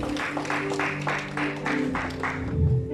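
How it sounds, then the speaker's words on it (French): Church congregation applauding together for several seconds, steady dense clapping with rhythmic swells and a held organ or keyboard tone underneath, fairly loud and close. "on acclame le Seigneur"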